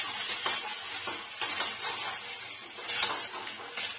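Onions frying in a pan with green chillies for a Garhwali potato curry, a steady close sizzle broken every second or so by the scrape and clatter of a spoon stirring, with no talking.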